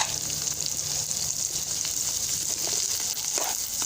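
Spices with coriander and salt frying for black chana chaat, a steady close sizzle with faint scraping, continuous throughout with no voices.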